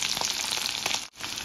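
Three dried red chilies and garlic sizzle in hot oil in a pan during Odia home cooking, a brief close crackling fry with a short dip partway through.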